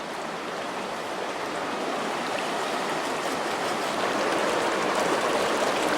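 Whitewater of class 2 river rapids rushes in a steady, dense roar that swells slightly louder toward the end, close by and with no voices.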